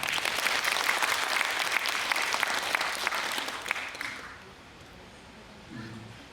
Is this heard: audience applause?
yes